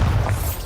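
Bombarda blasting spell going off in Hogwarts Legacy, a single short, heavy boom with deep low rumble, loud and close, with no talking.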